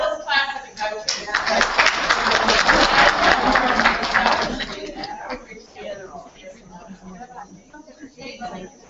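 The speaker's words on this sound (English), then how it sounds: "Now, let's clap for the coaches." Classroom audience of teachers clapping for the coaches at a fourth-grade training session, a burst of applause for about four seconds that fades into scattered claps and murmuring voices.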